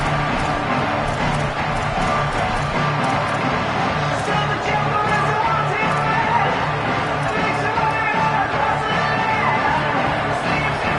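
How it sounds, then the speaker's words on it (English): A stadium crowd roars through a third-down defensive stand in an NCAA college football video game, a loud, unbroken wall of cheering with faint voices mixed in. "Decibels rising as the crowd gets behind this defense on 3rd down."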